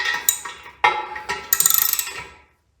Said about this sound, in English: I just use wrench just a little bit. Don't want to crack the toilet.